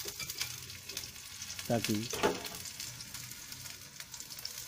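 Eggplant slices and potato chips fry in a few spoonfuls of ghee, giving a steady close crackling sizzle throughout with a brief burst of stirring and a short spoken word partway through.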